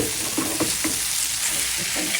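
Flat beans and potatoes frying in oil in a pan, a loud continuous sizzle up close with a few stirring scrapes and no voices.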